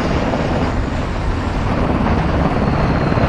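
Helicopter in a military shooter video game campaign, heard as a steady, loud broadband rotor and engine roar with wind-like rush, continuous and close throughout.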